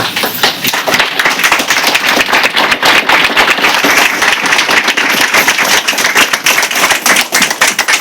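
Loud, dense clapping fills a church gathering for the whole stretch, a crowd applauding in praise with rapid overlapping hand claps close by, steady and unbroken throughout.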